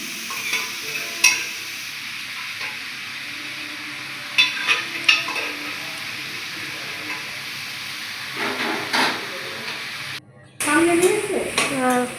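Shredded cabbage with ginger paste is stirred in a hot pan, giving a low steady sizzle broken by scraping and clinking strokes of the spatula, with someone talking nearby.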